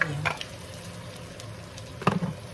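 Steady sizzle of chili frying in a hot pan, with a couple of brief stirring scrapes near the start and end.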